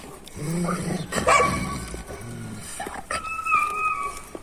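A dog barks and growls up close, with whimpering sounds between the barks.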